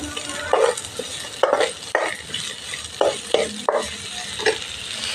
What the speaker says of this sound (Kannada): ಈರುಳ್ಳಿದು ಥರ ಫ್ರೈ ಮಾಡ್ತಾ ಇರಬೇಕು ಈರುಳ್ಳಿ